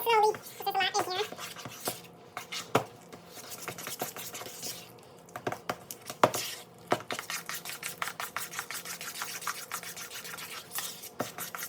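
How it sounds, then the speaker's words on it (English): Mashed bananas being stirred with milk and cinnamon in a bowl for banana bread: repeated soft scraping and clinking of a utensil against the dish, irregular and close, with faint talking. "mix that milk and that cinnamon in there really well"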